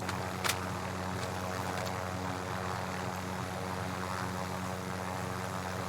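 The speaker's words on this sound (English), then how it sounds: "we do have the chopper" A helicopter in the video game Warzone drones steadily with a low, even rotor and engine hum, faint and continuous, with a brief sharp click near the start and no speech.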